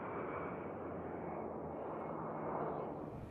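An A-10 Thunderbolt Warthog, a twin-engine subsonic attack aircraft, passes with a steady, broad engine roar that holds constant throughout, with no voices.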